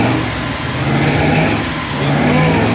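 A 1957 Chevrolet station wagon, freshly reassembled after years of sitting, revving hard on a cold engine: a loud, close, sustained roar that dips slightly midway and then climbs again.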